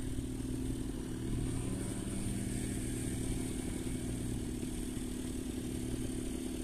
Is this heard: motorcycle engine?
yes